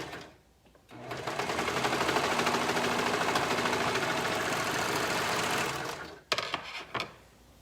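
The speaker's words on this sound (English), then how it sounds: "we're just going to finish this serger seam" A serger stitches a sweatshirt fleece seam in one steady, loud whirring run lasting about five seconds, then stops with a few clicks and handling noises.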